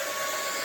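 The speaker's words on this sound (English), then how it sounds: "And here we go with the blow dryer." A blow dryer blasts air onto an acrylic paint pour made with house paint and dollar store acrylics, a loud, steady, unbroken whoosh with a constant motor whine.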